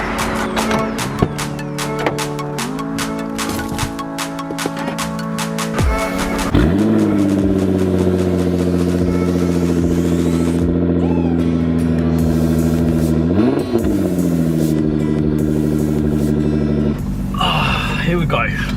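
A 2017 Nissan GT-R pulls away hard, its engine climbing through loud rising revs with gear-change dips, up close and dominating, with a voice talking over the start.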